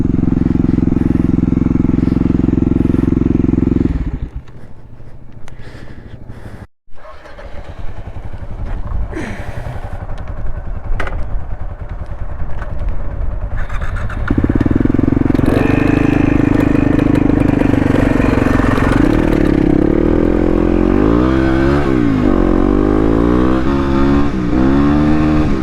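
A 2016 Yamaha WR250R motorcycle engine drones loudly while riding, drops off briefly, then climbs through rising revs with a buzzy high-pitched whine, wind rumble throughout.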